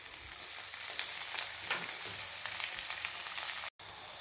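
Onions sizzle and fry in a pan with a steady crackling hiss, some louder pops and stirring scrapes along the way, and one brief dropout near the end.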